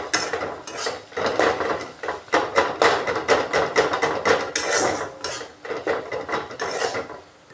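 Rhythmic scraping and clinking of a spatula stirring onion and tomato in a pan as they soften for a rui fish kalia, repeated strokes close and fairly soft, with no talking.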